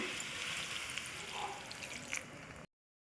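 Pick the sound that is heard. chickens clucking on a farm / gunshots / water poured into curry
water poured into curry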